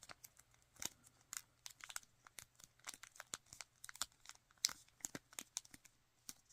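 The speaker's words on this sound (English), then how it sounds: "just fold this top triangle down along this edge here from point to" Paper is folded and creased into an origami flapping bird, making faint, close crinkles and crisp rustling snaps in an irregular patter.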